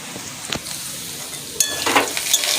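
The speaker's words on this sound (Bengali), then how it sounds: "এদিকে আমার আলুটা ভাজা হয়ে গেলে" Potatoes fry in a pan with a close hiss, briefly interrupted by a few clinks of a utensil against the pan before the sizzle grows louder near the end.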